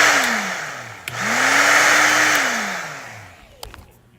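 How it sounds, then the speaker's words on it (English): A 3D-printed Hurricane blower runs loud and steady, its whine sliding down, rising again and then falling as it spins down near the end. "Hurricane sounding like Hurricane Blower right now."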